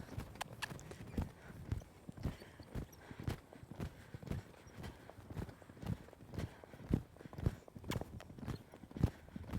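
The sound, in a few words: horse hooves loping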